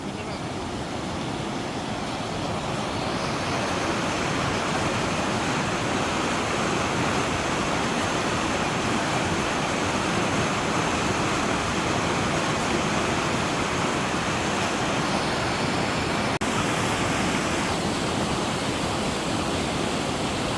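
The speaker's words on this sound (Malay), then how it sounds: "Inilah dia Jambatan Kayu Sungai Tekay. Air agak laju." Fast-flowing river water rushes under the wooden bridge over Sungai Tekay on an offroad route to Gusai, a loud, steady, broadband roar that continues without a break from start to finish.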